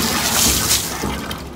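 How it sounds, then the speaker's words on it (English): Water churns and gushes steadily as a Bathing Beauty nozzle mixes shampoo into the bath water for washing a big dog, close and loud with no talking. "the Bathing Beauty nozzle and stick it underneath the water and mix that shampoo up"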